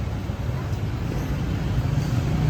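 Continuous rumble of busy street traffic in Hanoi, Vietnam, engines droning close by with a steady low roar and no pauses.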